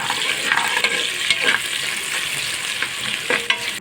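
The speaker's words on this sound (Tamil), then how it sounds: "நம்ம இந்த வெங்காயத்தை நல்லா தாளிச்சிக்கலாம்" Onions sauté in hot oil for a coconut milk vegetable biryani, giving a loud, continuous close sizzle broken by repeated spatula stirs and scrapes.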